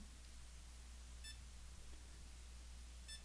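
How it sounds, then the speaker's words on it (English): A Garmin running watch's metronome gives two short, thin electronic beeps about two seconds apart, faint over a steady low hum. "Now you can hear the beep."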